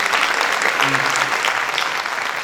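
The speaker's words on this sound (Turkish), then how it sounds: "kocaman bir alkış" An audience at a folk music choir performance gives a choir member a big round of applause, a dense and steady burst of clapping with a few faint voices underneath.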